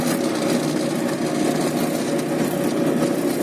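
A tractor engine idles in a steady, loud mechanical drone that holds constant without a break, during field cultivation work.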